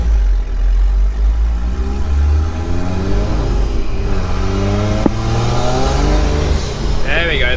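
Diesel Nissan GU four-wheel drive cruising slowly in third gear, a loud close engine drone with rising and falling pitch as it pulls, and a person talking over it.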